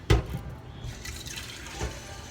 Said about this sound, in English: I'm just gonna keep adding water